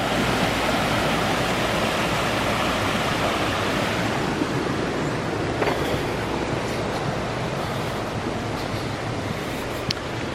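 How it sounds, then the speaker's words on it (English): Rushing water from the Inchcree waterfall roars steadily as a dense, even wash of noise from start to finish, with faint wind in the background. "there's a waterfall just outside"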